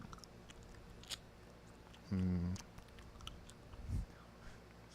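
Someone chews food close up, with soft mouth sounds throughout and one louder, denser burst of chewing partway through, then a brief crunch near the end.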